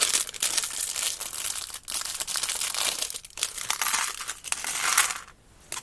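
Backing stickers peeled from a plastic model kit sheet of a Ports of Auckland tug boat, a close, continuous crinkling and crackling with brief crisp tears, a short pause near the end.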